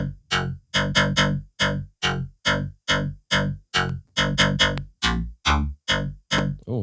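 Vital software synthesizer played inside Ableton with a harsh, distorted patch, sounding as a run of loud staccato chord stabs, about a dozen evenly spaced notes, alone without talk.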